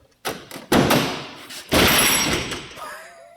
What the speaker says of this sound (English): So yeah, slams pretty hard.